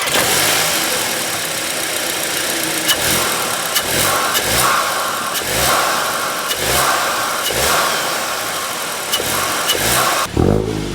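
A 2025 Volkswagen Golf GTI with a 2-litre turbo engine, running loud and close, with repeated throttle blips rising and falling in pitch over a steady idle, and no voices.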